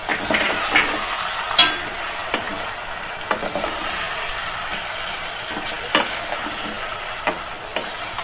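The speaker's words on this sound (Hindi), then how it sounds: "साथ ही इसको फ्राई कर लेंगे।" Steady frying sizzle of onions with garlic-ginger paste in a pan, with occasional stirring clicks and scrapes, fairly close, no talking.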